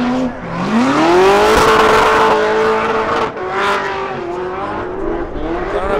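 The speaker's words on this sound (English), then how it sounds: "you got cars drifting" Engines rev hard nearby with rising and falling pitch as cars drift at an LS-engine car festival in Las Vegas, tires squealing over the roar, loud and continuous.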